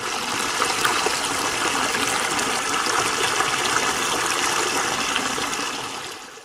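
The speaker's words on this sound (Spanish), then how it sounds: "cómo el agua baja con ese tono rojizo después de estas fuertes lluvias que se produjeron en el día de ayer" Reddish water from mine drainage rushes down after heavy rain near the source of the Tintillo river, a loud, steady gushing flow heard close up that fades slightly at the very end.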